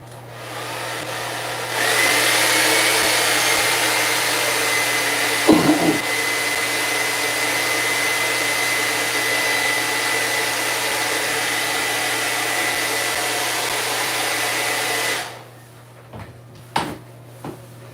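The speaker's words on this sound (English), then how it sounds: "and then we're going to blow dry it" A hair dryer blows steadily on a fiberglass bathtub wall repair, a loud continuous whooshing hum that starts abruptly, runs unbroken for about thirteen seconds, then cuts off, followed by a few faint clicks and knocks.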